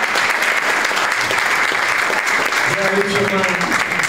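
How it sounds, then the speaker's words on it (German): Audience applause at a German comedy show, a dense burst of clapping filling the room while someone speaks over it near the end. "Ein Applaus."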